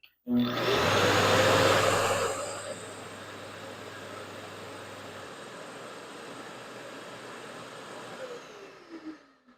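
A Festool dust extractor starts up and runs alongside a sander: a loud rising whoosh of suction with a low motor hum that settles into a steady airy roar, then trails off near the end.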